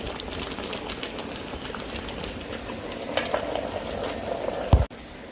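Chicken simmering in a pot on a home stove, a steady close bubbling and sizzling boil that runs throughout, with a brief clatter near the end.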